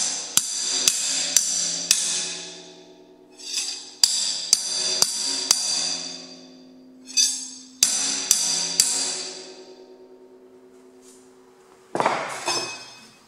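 Sharp metallic hammer strikes flattening thin sheet metal, in quick bursts of three to five blows separated by ringing decay, with a final heavier crash.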